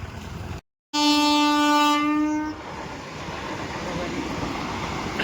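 A metro train rolls past the Lunsar level crossing near Wankaner, sounding a loud sustained horn for about a second and a half before the steady rumble and clatter of the passing cars carries on close by.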